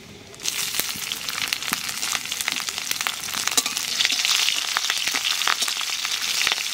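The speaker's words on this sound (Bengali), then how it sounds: "তেলের উপর দিয়ে দেবো তেজপাতা কালো জিরে আর কটা কাঁচা লঙ্কা দেবো" Bay leaves, nigella seeds and green chillies drop into hot oil, setting off a sudden loud, steady sizzle and crackle that carries on alone without talk.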